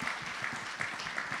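A church congregation applauds during a worship service, a quiet, steady patter of clapping heard from a distance.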